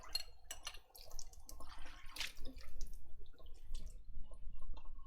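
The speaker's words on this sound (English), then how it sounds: "And then I'm just gonna rinse this and actually use this in my bowl." A wooden spoon rinsed under a running tap in a home kitchen while chicken noodle soup is cooked, with steady splashing water and scattered drips close by, no talking.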